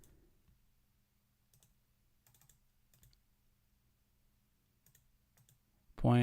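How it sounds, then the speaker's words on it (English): Calculator keys are tapped in sparse, quiet clicks during a geometry lesson, single presses and short clusters spread across a hushed room, ending in a sudden loud noise. "I guess I could show just typing this in the calculator."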